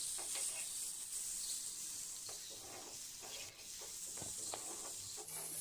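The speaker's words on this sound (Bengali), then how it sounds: "আলুটাকে খুব ভালো করে কিছুক্ষণ ভেজে নিব" Boiled potatoes fry in a pan with a steady sizzle and hiss, broken by several short scraping stirs, close and alone with no talking.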